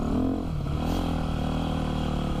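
A warmed-up Yamaha YZ250F dirt bike engine running at a steady idle-to-rev drone, close and loud, with a slight rise early on and no talking.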